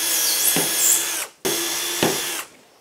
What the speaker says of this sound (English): I might as well drill the holes here